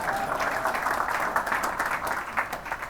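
An audience at a Major League Soccer press conference for a new Los Angeles club applauds steadily, a dense, even clapping from a medium-sized crowd indoors that holds for several seconds without talk.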